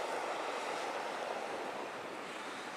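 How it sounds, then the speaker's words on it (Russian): Calm sea waves near Vladivostok wash in a steady, soft broadband hiss, with light wind noise and no voices, continuous throughout. "Море сегодня не такое волнительное"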